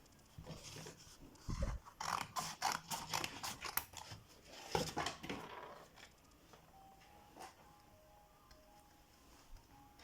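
Scissors snip through sandal material for handmade summer sandals, a run of crisp, crunchy cuts bunched in the first half, then a quieter tail with faint background tones.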